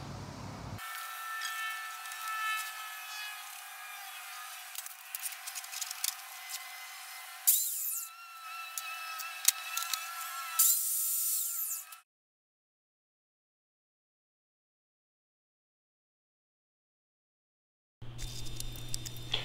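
Power saw cutting PVC trim board for a home-office accent wall, a sustained high whining cut running for several seconds with brief pauses, then silence before another burst of tool noise.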